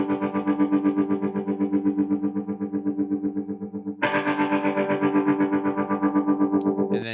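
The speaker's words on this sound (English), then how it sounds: "This tremolo guitar sound." A pulsing tremolo electric guitar texture with distortion and chorus, chords throbbing in a fast even rhythm that shifts to a brighter, louder chord partway through, sustained and up front with no voices.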